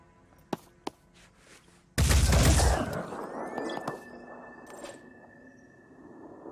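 Gunfire in the video game Phoenix Point: a couple of faint sharp shots, then a loud burst of fire with a blast that fades slowly into a lingering ringing tail.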